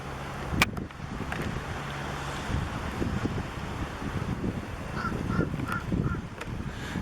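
Crows caw by the beach, a few short calls rising faintly over steady wind noise and distant background hum, no talking in between.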